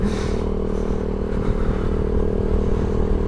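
A Suzuki Intruder motorcycle engine runs unevenly and sputters from fuel starvation after the fuel tap was left closed, a steady close drone with a rough, irregular edge and no talking.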